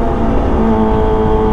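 A Kawasaki ZX25R motorcycle fitted with an Arrow Pro Race exhaust revs with a loud, close, steady engine roar in a brief burst.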